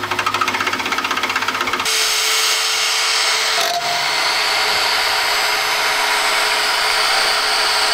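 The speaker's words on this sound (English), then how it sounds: "We got all four of the holes drilled and through some pretty thick metal." A power drill bores through thick metal while holes are made to mount scissor jacks on a bus, with a loud steady whine and a grinding change in tone partway through, close up and with no talk.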